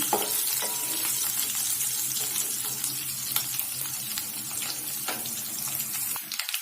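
Garlic and dried red chillies fry and get stirred in a pan for drumstick sambar, a continuous bright sizzle with scattered crackles and light scraping throughout.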